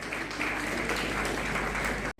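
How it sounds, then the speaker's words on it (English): Applause at a school achievers' award ceremony at Humanity Public School: a dense, steady crowd clapping that swells slightly, holds evenly for about two seconds, then cuts off abruptly. "Give them a huge round of applause."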